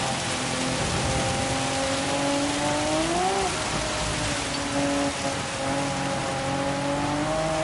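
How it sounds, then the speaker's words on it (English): Heavy rain hisses steadily over a race car's droning engine in Gran Turismo 7, a World Touring Car 800 event at Spa with a Honda NSX GT500, the engine pitch rising and falling with gear changes as a voice talks over it. "That rain is coming down hard."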